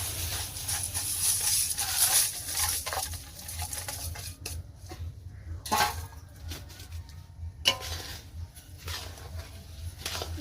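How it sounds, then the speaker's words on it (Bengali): Mihidana (tiny fried gram-flour pearls) tipped into sugar syrup in a pan for motichoor laddu, with metal clinks of spoon and pan, soft pattering and stirring scrapes, louder at first, then intermittent. "আমি মিহিদানা দিয়ে দিচ্ছি।"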